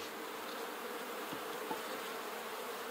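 Honey bees buzz steadily at a hive being switched to a new box, a soft, even drone with a couple of faint knocks in the middle.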